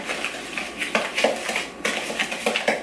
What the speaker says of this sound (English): you just add the butter into the sugar mix and then mix it together